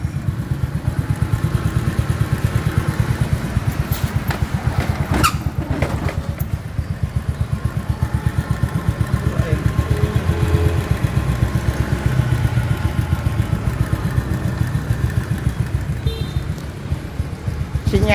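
A 2013 Honda Super Dream motorcycle idles close by, its exhaust giving a steady, even low putter that carries through the whole stretch, with a few faint clicks and knocks on top.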